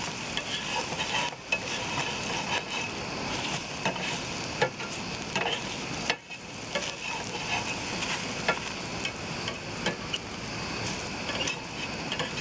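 Chicken of the Woods mushroom pieces sizzle and crackle steadily in a small frying pan, with occasional stirring scrapes breaking through the continuous hiss, close and fairly quiet.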